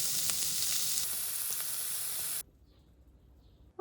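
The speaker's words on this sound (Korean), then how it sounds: "계란 후라이랑 만두 3개 예쁘게 구워서 먹을 겁니다." Fried eggs and three dumplings sizzle and crackle loudly in a hot pan, then the hiss cuts off abruptly, leaving a quiet room with faint sounds.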